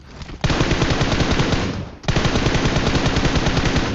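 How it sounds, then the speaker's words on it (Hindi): Sustained automatic gunfire in a battle-royale video game, two long loud bursts of rapid shots with a brief break between them, close and dominant with no talk. "तो मैंने ऐसे रैंडम फायरिंग कर दी जिसमें वो नॉक हो गया"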